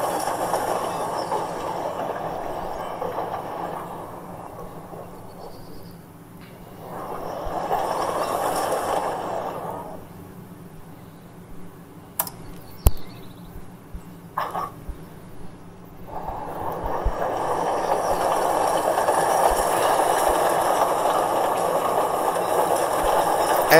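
A train rumbles along the rails, fading in and out as it passes, with brief squeals and metallic clicks in the middle before the rumble returns.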